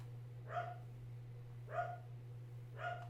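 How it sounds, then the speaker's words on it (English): Three short dog barks spaced about a second apart, moderately close, after a package delivery doorbell ring at home, over a steady low electrical hum. "I apologize for my dogs there as somebody delivered a package and rang the doorbell."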